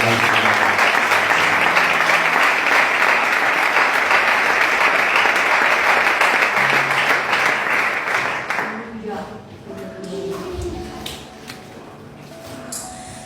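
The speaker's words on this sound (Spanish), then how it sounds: "Dale un aplauso al Señor." A church congregation breaks into sustained, dense applause that fills the room for about nine seconds, then fades into scattered claps and quiet voices.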